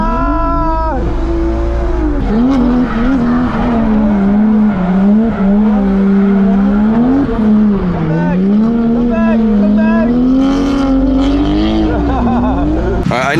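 A Japanese car drifts on a wet track in the rain on worn tires, its engine droning loudly and steadily with rising and falling revs through the whole stretch, and voices talk over it.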